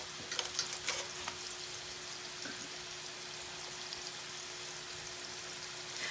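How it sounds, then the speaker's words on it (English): Turkey slider patties fry in a pan with a steady, soft crackling sizzle throughout, a few sharper pops early on, and no talking. "these are going to be frying up nicely"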